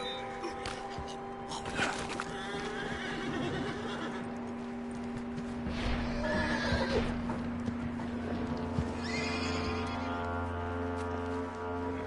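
Horses whinny and neigh several times amid steady clip-clopping hooves, with a low droning background and brief voices now and then, in the video game Red Dead Redemption 2.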